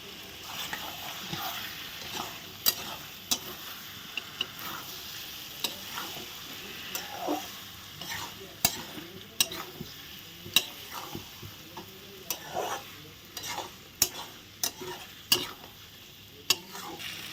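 Soybeans with slit green chillies frying in a pan, stirred with a utensil: a steady sizzle underneath with frequent sharp scraping clicks and taps, close and moderately loud, no voices.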